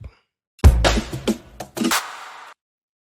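Clap sample from an afrobeat beat: a few sharp, punchy hits with an uneven rhythm, each one a bright snap over a low thump, played loud and alone, then a short decaying tail.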